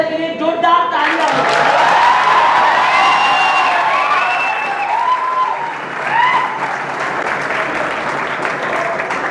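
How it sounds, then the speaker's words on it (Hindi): A seminar audience breaks into loud, sustained applause, a dense wash of clapping with cheers and whoops rising over it, staying strong throughout and easing off only slightly near the end. "सूरज सर के लिए जोरदार तालियां।"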